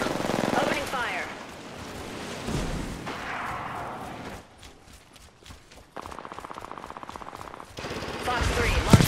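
Bursts of automatic gunfire and sharp shots in the Apex Legends battle royale game, coming in uneven volleys with quieter gaps between, a rapid rattling burst near the end, and game voice lines spoken over the shooting.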